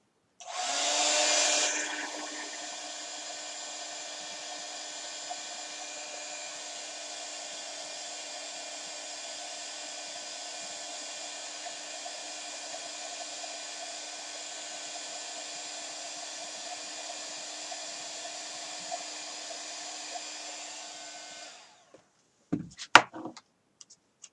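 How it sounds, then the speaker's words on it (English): Heat gun for heat embossing on a stamped watercolor background: after a louder burst at switch-on, it settles into a steady whirring hum for about twenty seconds, then cuts off, followed by a few clicks and knocks. "I'm going to go ahead and heat emboss it. So I'm going to turn my heat gun on."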